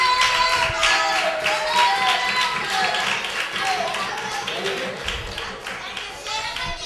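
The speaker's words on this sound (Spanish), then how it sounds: "Pedimos un fuerte aplauso, por favor, para ellos." Applause and clapping for a children's youth football team at an end-of-season closing ceremony, steady and fairly loud throughout, with children's voices and chatter mixed in underneath.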